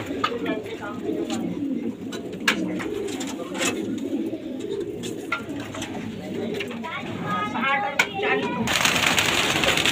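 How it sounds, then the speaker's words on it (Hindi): Many pigeons coo continuously in a close, busy chorus with wing flutters and scuffles, while someone talks intermittently over them; the flock noise swells louder near the end. "खा रहे कबूतर डर रहे हैं"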